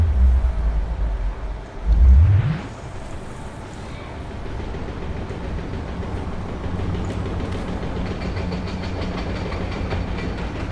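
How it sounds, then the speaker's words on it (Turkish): Train rumbling past in the VR game Killing Floor Incursion, a loud low roar that swells and then settles into a long steady rattling drone. "Üstümüzde tren var galiba. Galiba öyle bir sesler geliyor."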